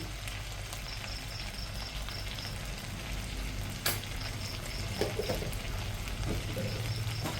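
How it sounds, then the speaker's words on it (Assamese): Potatoes with turmeric frying in a pan: a steady, dense sizzle and crackle that carries on throughout, with a few louder pops and stirring scrapes near the middle and end. No one talks. "এনেকৈ এতিয়া অকণমান সময় এইখিনি ভাজোঁ"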